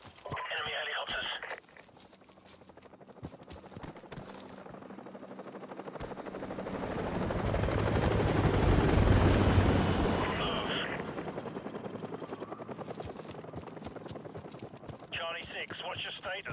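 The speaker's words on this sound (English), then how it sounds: "Enemy helicopters." A video game helicopter roar swells up, peaks, and fades away as enemy helicopters pass, with radio-style chatter and brief crackling bursts at the start and end.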